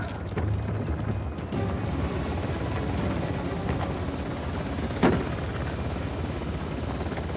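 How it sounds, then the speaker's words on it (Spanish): Helicopter in the video game Uncharted: The Lost Legacy, a steady rotor and engine drone filling the scene, with a single short thud or impact partway through, no speech. "Intentar enganchar las cuerdas al helicóptero."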